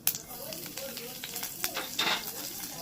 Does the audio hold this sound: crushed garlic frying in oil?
yes